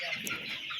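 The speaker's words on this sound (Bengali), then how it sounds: "এই যে দেখতে পারতেছেন আমার ফার্মের বর্তমান মুরগির অবস্থা" Broiler chickens on a thousand-bird poultry farm give a dense, steady chorus of soft clucking and chirping. The sound is brief, continuous and moderately close.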